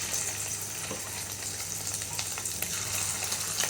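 Fish roe pakoras crackle in hot oil, a continuous close sizzle with scattered pops and small bursts as the fritters are dropped in one by one.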